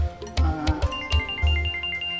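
A telephone rings with an incoming call indoors, a repeating high electronic ringtone heard under thumping low knocks and background household sounds.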